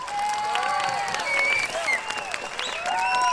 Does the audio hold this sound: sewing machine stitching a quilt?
no